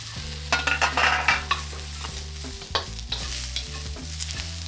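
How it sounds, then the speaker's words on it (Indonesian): Onion and corn stir-fry in a pan, a steady close sizzle broken by repeated scraping strokes of a spatula, with music playing underneath and no talk. "Kita akan tumis bawang bombay sampai layu banget"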